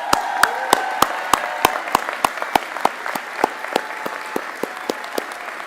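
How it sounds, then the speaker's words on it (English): Applause for a 2024 graduating class at a sports product management commencement in Portland, led by a few sharp, distinct hand claps close by over a softer crowd clapping that builds slightly and continues. "I need a good round of applause for 5 seconds for this 24 class."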